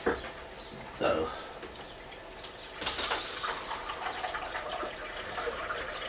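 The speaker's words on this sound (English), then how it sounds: "So what I've got to do is just wash out my bowl and then pop some more water in" Water runs into a painting wash bowl at a hobby bench, a broad hissing gush building near the middle and continuing steadily to the end, close and moderately loud.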